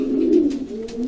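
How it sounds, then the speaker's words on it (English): A racing pigeon coos up close, one soft low throaty coo stretching across the whole moment, with no voices over it. "Okay, Josh, this is another Voss pigeon"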